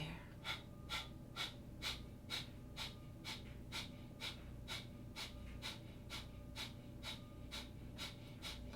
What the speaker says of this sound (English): Inhaling. And breath of fire.